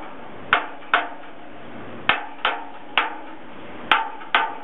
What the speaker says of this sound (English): So as I do the hammer test, I'm first evaluating which ones I like, which ones I don't like